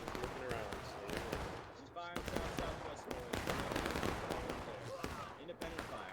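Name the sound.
musket gunfire in the video game War of Rights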